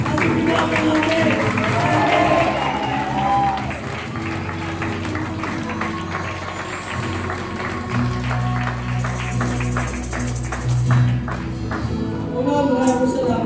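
A congregation at a Sunday church service applauds with sustained, dense clapping. A voice speaks over the applause near the start, and music and singing continue underneath.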